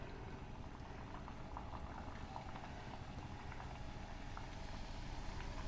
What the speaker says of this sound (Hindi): देखिए कढ़ाई में डालते ही सारे गोलगप्पे हमारे फूल रहे हैं